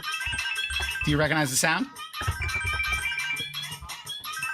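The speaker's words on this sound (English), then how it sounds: "It's the song that plays when Momo comes on an Avatar" A phone ringtone plays a short melodic tune, the theme for Momo from the animated series Avatar. It loops steadily at moderate volume while people talk over it throughout.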